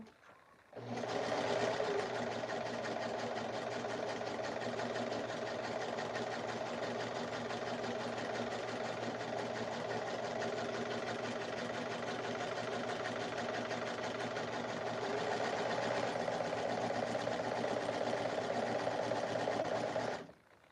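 A serger sewing machine stitching fabric for a prom dress, running as a steady rapid mechanical whir that starts abruptly, holds for about twenty seconds and then stops, close and even.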